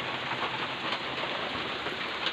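Steady rain pours down on a house, a dense continuous patter of drops on the roof and surfaces, close and fairly loud with no voices.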